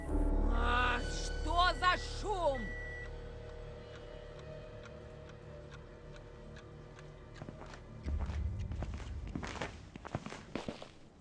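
Running footsteps of a character in the Schoolboy Runaway video game: a quick, regular patter of steps sounds close by after a short stretch of speech, then gives way to a louder thump and further game noise.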